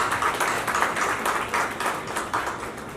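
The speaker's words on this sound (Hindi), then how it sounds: "एक बार जोरदार तालियां हो जाए।" An audience at a public event breaks into hearty applause, a continuous wash of many hands clapping at moderate volume that holds steady for several seconds without talk.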